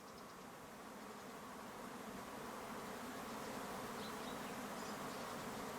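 A dense, continuous buzz of many bees around a crowded cluster of hives at an abandoned campsite in Corsica fills the air, steady and slowly swelling, with no voices.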